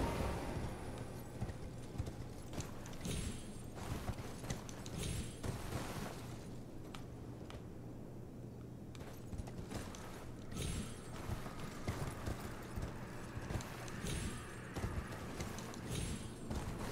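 A horse gallops in the video game Elden Ring, a steady run of hoof clip-clops under dense in-game ambience and clattering effects, continuous throughout.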